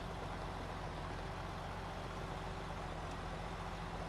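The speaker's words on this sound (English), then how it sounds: "I love the idle sound of it as well." A Kenworth 963 truck idles in the video game SnowRunner, a steady, deep diesel rumble with a low tonal hum holding evenly throughout, fairly quiet and with no talking.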